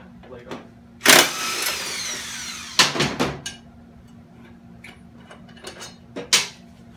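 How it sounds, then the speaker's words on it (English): Socket wrench loosening a lawn mower blade bolt, heard as several sharp metallic ratcheting bursts and clanks spaced over a few seconds, fairly close, with a faint steady hum beneath. "take the right size socket and hold your hand on it so it doesn't spin, and take the blade off."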